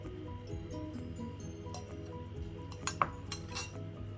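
A spoon clinks against a bowl while egg and cake batter are mixed for a cake made without an oven, with a few sharp chinks scattered over a soft, steady background of stirring.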